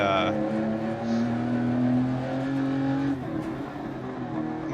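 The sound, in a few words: air-cooled Porsche 911 engine from inside, Dirt Rally 2.0 video game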